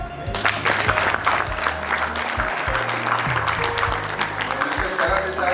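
An audience claps for an award winner at a company anniversary celebration, steady applause over a looping musical backing, with some voices mixed in.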